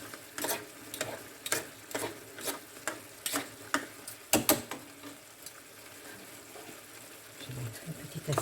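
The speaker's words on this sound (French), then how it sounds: "Je mélange." Steak with tomatoes and basil is stirred in a pan, a series of scraping, clicking utensil strokes at an irregular rhythm, fairly close, with a quiet sizzle underneath.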